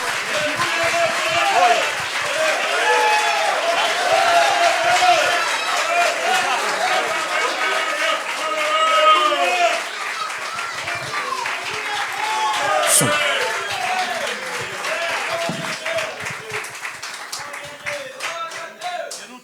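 A congregation claps during a men's church service in Jardim Embura, Santo Amaro, São Paulo, welcoming a missionary, with sustained rhythmic hand clapping under loud talk and shouts from the room.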